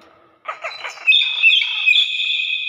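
A myna bird calls up close, starting with a burst of rough chattering notes, then settling into a sustained high, whistling tone.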